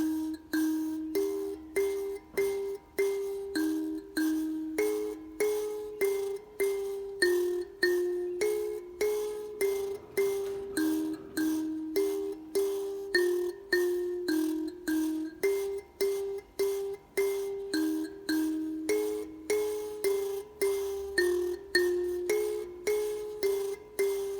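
Bright plucked metal tines of an mbira repeat a steady, interlocking pattern of bell-like notes, the core kushaura part of Nhemamusasa, a continuous cyclic figure played alone at moderate volume.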